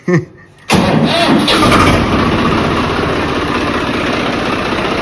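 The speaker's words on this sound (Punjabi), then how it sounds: "ਚਲੋ ਕਰ ਲਈ ਟਰੈਕਟਰ ਸਟਾਰਟ" A tractor engine cranks and catches at once with a loud burst, then settles into a steady, rough idle; a brief voice is heard just before it starts.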